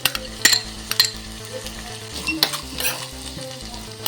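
Chopped capsicum and carrot sizzle in a hot pan while a spatula mixes them, with loud continuous frying under repeated sharp metal scrapes and clinks, close up, with steady background music and no talking.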